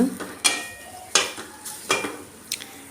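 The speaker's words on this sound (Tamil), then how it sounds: "இந்த மசாலா வந்து நல்லாவே வறுத்தெடுத்தாச்சு" Masala for a coconut fish curry being dry-roasted on low heat and stirred in a pan: four evenly spaced, crisp scraping strokes, close and fairly loud, with a faint dry rustle between them.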